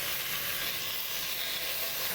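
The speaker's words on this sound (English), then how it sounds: "Lots of sizzling going on" Oxtail sears in hot oil in a pan, giving a dense, continuous hissing sizzle, close and steady throughout.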